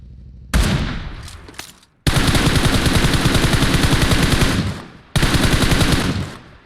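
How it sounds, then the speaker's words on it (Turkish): Loud, close automatic gunfire in the PUBG Mobile shooter game: one heavy shot, then two long sustained bursts of rapid rounds separated by a short pause. "Abi rastgele vurdum adama."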